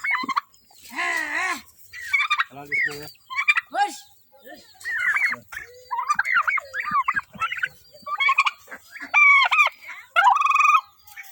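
Chickens cluck and squawk in a busy, overlapping flock, loud and close, with a rooster-like crow rising near the start.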